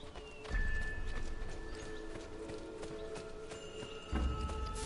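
Horse hooves clip-clop steadily in the Assassin's Creed 2 video game, a moderate walking rhythm amid in-game music and ambience, with a couple of louder low thumps.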